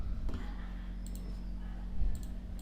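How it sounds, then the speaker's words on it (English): A computer mouse double-clicks twice, each a pair of quick sharp clicks, close and crisp over a low steady electrical hum, with no talking. "So now just double click it to extract this zip file."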